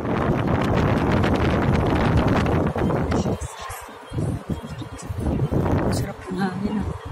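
Steady wind rumble buffets the microphone, loud and continuous, with people talking over it.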